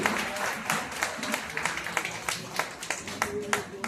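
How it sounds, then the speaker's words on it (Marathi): Applause rings out at an award ceremony at a drama convention's prize-giving, a dense patter of clapping mixed with voices and crowd noise, moderately loud and continuous. "जोरदार टाळ्या"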